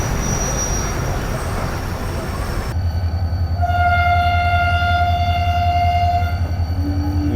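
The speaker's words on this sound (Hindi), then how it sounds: "ये दूसरा हॉर्न था" A loud, sustained train horn blares with steady tones over the rumble of the Shah Latif Express rolling along the tracks in Pakistan, following a stretch of station noise.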